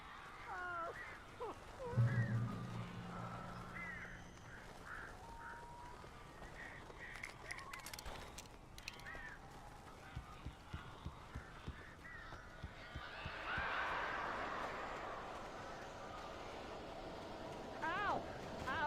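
Crow-like birds caw repeatedly in the video game Alan Wake, with harsh calls clustered near the start and returning later against a steady ambient bed, while someone talks over much of it.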